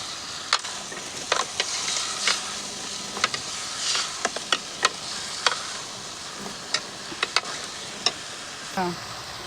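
Chicken sautéing in a pan, a soft sizzle under a series of sharp spoon taps and scrapes against the pan as it is stirred, close by and fairly quiet.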